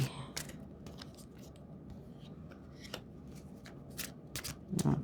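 Black mirror scrying reading cards being shuffled by hand in a quiet room, a run of soft papery riffles and flicks in uneven bursts, close and fairly faint.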